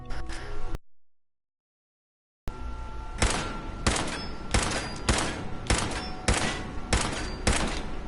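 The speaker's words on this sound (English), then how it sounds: "I'm wasting my 10mm pistol ammo." Gunfire from a 10mm pistol in the video game Fallout 4, a series of sharp, loud shots fired one after another at a fairly steady pace after a short gap of silence, with no talk.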